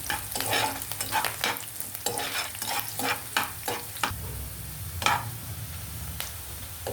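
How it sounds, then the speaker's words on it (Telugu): Sliced onions and curry leaves fry in hot oil in a pan for a fish egg fry, sizzling steadily under repeated scraping strokes of a stirring spoon, close and clear. "ఉల్లిపాయలు మంచి బాగా గోల్డెన్ ఫ్రైలో వేగాలి."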